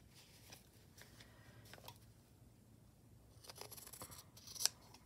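Scissors trim stitched fabric on a finished gingerbread house stitchery piece, giving soft, close snips that grow into a quick cluster of cuts with one sharper snip near the end; faint and quiet, with no talking.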